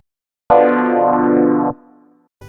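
A diminished triad chord sounded once, a single sustained electronic-toned chord held for just over a second before it cuts off and rings faintly, heard on its own.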